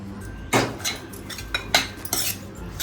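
A spoon stirring fresh coconut and jaggery filling with cardamom powder in a metal pan, sharp scraping clinks against the pan at irregular intervals, close and clear with no talk.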